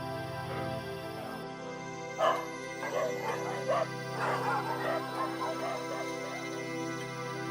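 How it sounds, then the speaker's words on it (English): Dogs at a rescue shelter yip, whimper and bark in short scattered bursts over a steady background hum, moderately close, with no one speaking. "May I introduce you to my best friend Funny, who almost died of starvation in the government shelter."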